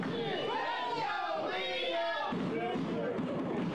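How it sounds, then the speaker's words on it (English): A hot wrestling crowd cheers loudly and continuously at a Subject To Death tag-team match against Murder, Inc., a dense roar with overlapping shouts and announcer voices layered over it throughout. "Crowd hot for STD tonight"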